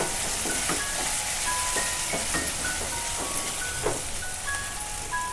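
Moong dal and spring onion curry stirred in a frying pan, with a steady sizzle and a handful of soft scraping strokes from the spoon, close and moderately loud with no talking.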